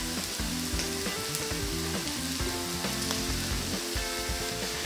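Marinated pork sautéing in a pan for estofado sizzles and crackles loudly and steadily up close, with scraping and stirring clatter throughout and no voices.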